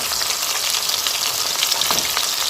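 Chicken 65 pieces deep-frying in hot oil give a steady, dense crackling sizzle throughout, close and fairly loud with small popping bursts and no talking.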